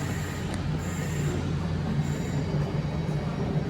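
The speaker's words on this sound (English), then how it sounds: "here is 39122 on the 11:37 Avanti West Coast service to Manchester Piccadilly" An Avanti West Coast passenger train, unit 39122 on a Manchester Piccadilly service, rumbles in at the platform with a steady low drone, faint wheel squeals and soft rail clatter, nearby and fairly loud, with no one speaking.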